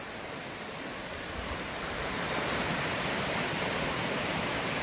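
The 40 ft Devil's Falls near Pittston, Pennsylvania, gives off a steady, dense roar of rushing water that is close and loud, with a continuous broadband wash and no pauses.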